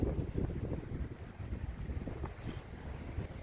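Strong wind buffets the microphone at a playground in a low, continuous rumble, gusting unevenly with no voices.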